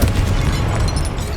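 In the video game Hogwarts Legacy, a Confringo blasting spell goes off as a loud, close, booming explosion that stays dense and rumbling through the whole brief moment.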